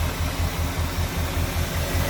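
A 1957 Chevrolet 3100 Stepside street rod pickup engine idles with a steady, low, even rumble and a regular pulsing throb, loud and close, with no talking.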